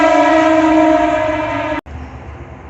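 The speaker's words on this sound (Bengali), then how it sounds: "নালিকুল প্ল্যাটফর্মে ওই যে ট্রেন ঢুকে গেছে" A loud, sustained train horn blares steadily for nearly two seconds as a train enters a station platform, then cuts off abruptly, leaving rumbling railway noise close by.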